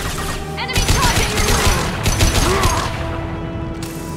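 Rapid gunfire and booming impacts in the video game Mass Effect 2, a dense loud fusillade of overlapping shots with mechanical clatter.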